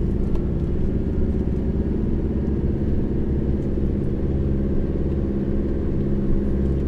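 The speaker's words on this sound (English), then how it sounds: "First gear, low range, getting these reduction gears work an absolute treat, especially in country like this," A 4x4 descends a very steep high-country dirt track in first gear low range, its engine a steady low rumble with gear whine, close and continuous with no talk.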